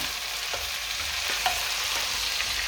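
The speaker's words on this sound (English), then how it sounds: "we're going to let this sweat down" Carrots, tomatoes and cabbage sweating in a pan for a lamb curry, giving a steady soft sizzle with a few faint spoon scrapes from stirring, alone without talk.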